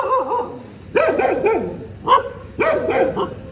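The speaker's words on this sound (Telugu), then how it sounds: "చూడండి గైస్ ఎన్ని డాగ్స్ 1 2 3 4 1 Rottweiler" Several dogs, among them a Rottweiler, bark in bursts of deep and higher yips, close by, with short pauses between volleys and no talk.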